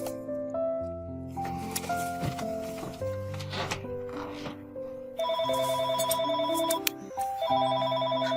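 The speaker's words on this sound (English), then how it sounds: "Now he's calling the home phone." A telephone rings repeatedly in a bright electronic tone, playing over music, with the pattern shifting partway through and continuing steadily.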